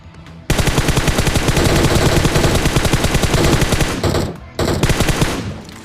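Automatic gunfire rattles in the mobile battle royale game Battlegrounds Mobile India, loud and close in long rapid bursts with two brief pauses near the end, and no talk over it.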